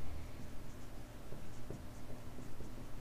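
Hand-written numbers scratched out in short strokes by pen or marker, faint and steady under a low room hum, with no voice over it.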